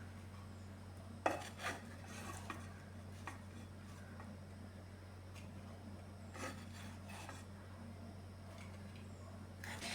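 Spoon and utensil clinks and scrapes against a pan and dish as fried fish coated in masala is moved over, a few sharp taps above a steady low hum.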